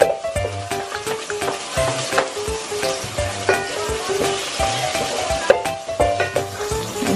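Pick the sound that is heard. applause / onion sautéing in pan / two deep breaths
onion sautéing in pan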